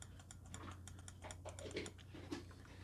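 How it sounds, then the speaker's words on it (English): Left button of a Logitech G305 wireless gaming mouse clicked repeatedly, giving a series of short, sharp clicks at a steady pace. The clicks sound close and fairly quiet over a low hum, with no talking. "here's how the left mouse button sounds."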